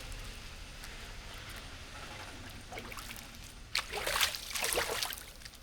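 Rain-swollen small canal running full after a downpour, a soft steady rush of flowing water throughout, with brighter splashing and gurgling swelling up in the last couple of seconds; no talking.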